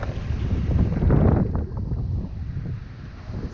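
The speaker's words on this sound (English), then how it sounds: "It's getting pretty windy up here" Wind gusts high up in a tulip poplar tree during a tree removal, a steady roaring rush with buffeting against the microphone that swells briefly and eases.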